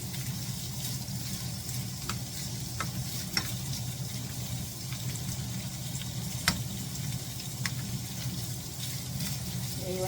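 Cooked andouille sausage and pasta are stirred in a skillet, with light scraping clicks and taps of the utensil over a soft, steady sizzle.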